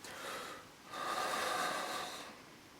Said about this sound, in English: This is me breathing from the stomach